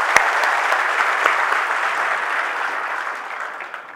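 An audience at a Balaji Insulators corporate event gives steady applause, a dense patter of clapping that starts with a few sharper claps, holds evenly, and fades slightly toward the end.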